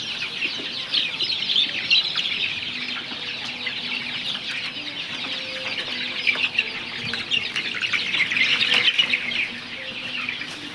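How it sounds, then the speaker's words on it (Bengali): Broiler, naked-neck, desi and Sonali chickens cluck and cheep together in a shared pen, a dense, continuous chorus of small peeps layered over occasional lower clucks and wing rustles. "আমাদের এখানে আছে আপনার ব্রয়লার গলাশিলা কিছু দেশি মুরগি একসঙ্গে আছে সোনালিও আছে কিছু"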